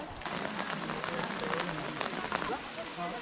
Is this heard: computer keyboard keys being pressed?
no